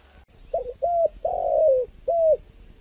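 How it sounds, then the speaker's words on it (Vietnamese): A spotted dove coos nearby, giving four clear, mellow notes in a short phrase with the third drawn out longest, against a quiet background hum. "Yêu sao tiếng gáy chim cu"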